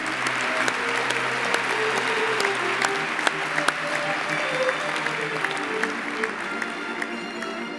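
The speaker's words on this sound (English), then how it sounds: "Please join me in a round of applause to the graduates." An audience at an Imperial College postgraduate graduation ceremony applauds Doctor of Medicine graduates from the Faculty of Medicine, with sustained, even clapping from a large crowd in a big hall, heard from a distance.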